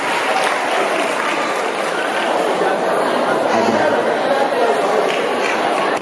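A crowd at a 1983 year-group 40th homecoming anniversary event claps for a brilliant student, a dense continuous wash of applause mixed with loud crowd chatter and voices throughout.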